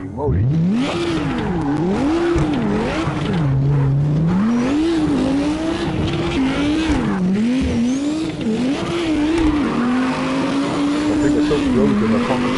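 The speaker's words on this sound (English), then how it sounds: "So frozen, I can't control the car." Car engine in the CarX drifting video game revs up and down continuously, with a wavering pitch and tire squeal running throughout, loud and close while someone talks over it.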